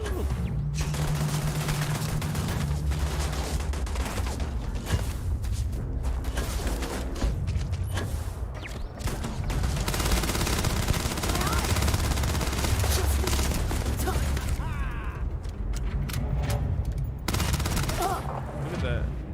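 Sustained automatic turret fire in Starfield, a dense continuous barrage of shots and mechanical clatter running loud through the whole stretch, with brief dips and some game noise layered in.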